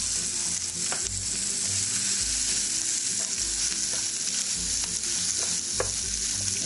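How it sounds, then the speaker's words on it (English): Onions frying in a pan produce a dense, close sizzle running without a break, with low thumps and faint scraping as they are stirred, and no voices. "I'm gonna add our onions back in here."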